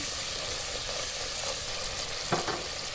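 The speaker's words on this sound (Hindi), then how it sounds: "इस मसालों को फ्यू सेकंड के लिए भूनेंगे" Spices frying with ginger and garlic in a hot pan give a steady, loud sizzle, with occasional scraping stir strokes and a brief louder stir near the end, close up with no talking.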